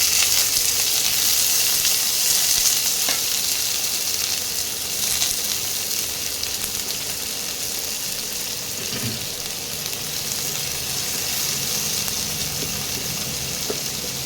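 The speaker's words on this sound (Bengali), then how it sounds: "মাঝারি সাইজে দুটো পেঁয়াজ দিয়েছি কুচিয়ে, একটু ভাজা হোক পেঁয়াজটা" Two medium onions, chopped, fry in hot oil with tempering spices, giving a loud, continuous sizzle and crackle close by that holds steady with no talking.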